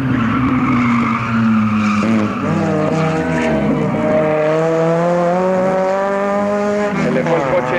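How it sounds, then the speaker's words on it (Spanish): A loud, sustained tire squeal from a race car skidding, long wavering screeching tones over an engine roar, with a voice talking over it. "Se le fue el coche."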